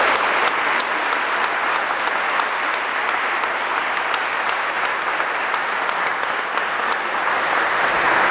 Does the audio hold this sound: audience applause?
yes